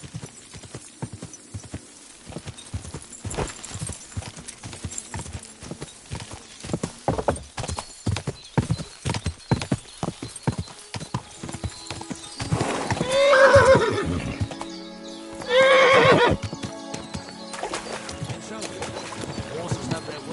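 From the video game Kingdom Come: Deliverance II, horses gallop with rapid clip-clop hoofbeats and a couple of loud neighs, while a rowing-like swish sounds underneath.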